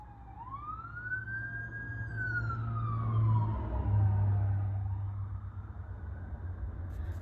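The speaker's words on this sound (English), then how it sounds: "Look, now you got sirens" A wailing emergency siren rises and falls in a long sweep, moderately distant, over a steady low rumble of traffic.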